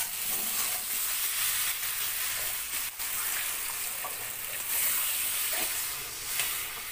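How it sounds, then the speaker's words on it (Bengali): Water poured into frying mutton curry with potatoes brings a steady, hissing sizzle and rising steam that carries on evenly, with faint clicks and no talk. "তো দেখো এবার জল দিয়ে দেওয়া হচ্ছে।"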